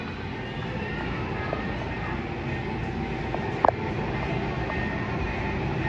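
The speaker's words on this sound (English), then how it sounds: "Look at that toy train." A CSX model toy train runs on a display track inside a Wegmans supermarket in West Harrison, NY, giving a steady, moderate rumble under busy store ambience, with a brief sharp click near the end.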